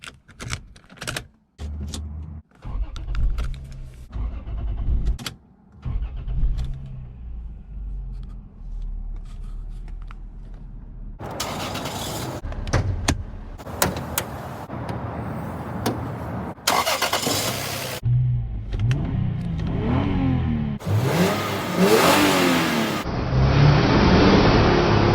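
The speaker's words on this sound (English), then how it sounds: "Ooh, she sounds so good. Burn, baby, burn. I got that 2JZ motor" A 1998 Lexus GS300 with a 2JZ engine, heard close up from inside: the engine starts, idles with clicks and small noises, then revs up loudly several times with rising bursts.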